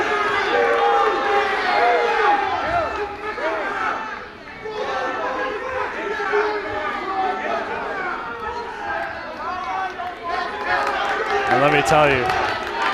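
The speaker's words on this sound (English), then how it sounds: "this is the loudest this crowd has gotten tonight" A loud crowd packs a gym at a high school wrestling match between Immaculata and North Hunterdon, a steady roar of cheering and chatter running beneath a commentator's continuous talk.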